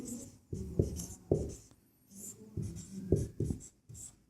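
Pen strokes writing on paper during a maths lesson, close and quiet, in short irregular bursts of scratching separated by brief pauses.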